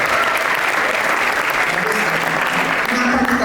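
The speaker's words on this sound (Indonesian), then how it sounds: "Kita beri tepuk tangan dulu." Audience applause at an Indonesian youth integrity seminar, a dense steady wash of many hands clapping throughout, loud and continuous with faint voices mixed underneath.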